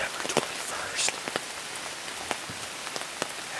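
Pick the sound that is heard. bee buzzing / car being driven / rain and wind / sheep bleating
rain and wind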